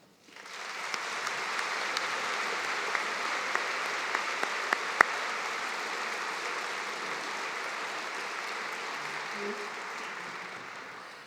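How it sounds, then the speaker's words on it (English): A large convocation audience applauds the MacEwan University Jazz Band, a steady, dense wash of clapping sustained for about eleven seconds with a few sharper claps standing out. "I'd like you to join me in a big round of applause for the very talented group of individuals standing behind me"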